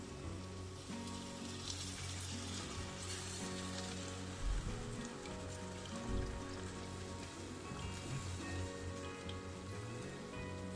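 Tamarind water poured into sizzling masala in a pan for karimeen pollichathu, a continuous close crackling sizzle with hissing bursts as the liquid hits hot oil, heard alone.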